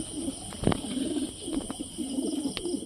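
Fancy pigeons cooing at close range in a rhythmic, repeated low warble, with a few sharp knocks and clicks from the loft around them; no one speaks.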